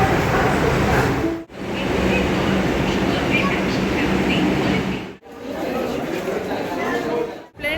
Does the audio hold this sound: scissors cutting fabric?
no